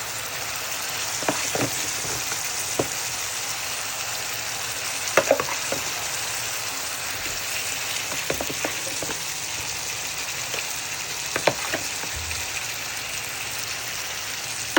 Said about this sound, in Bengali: তো আমি জাম্বো চিকেনগুলো 1 বাই 1 বিছিয়ে দিচ্ছি সুন্দর করে